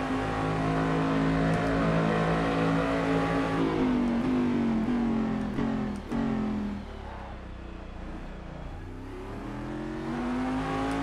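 A Cadillac DPi prototype race car engine in the Assetto Corsa racing game drones loudly and continuously, its pitch sliding down and climbing back up through gear changes, with no talk over it.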